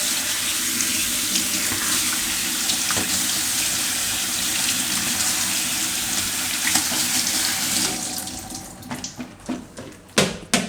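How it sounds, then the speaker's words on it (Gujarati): Whole bitter gourds are rinsed under a running kitchen tap, with a continuous gush of water, then a run of sharp clatters and splashes near the end as the gourds are handled in the sink. "તો પહેલાં કારેલા છે એને આપણે ધોઈ નાખશું આખા"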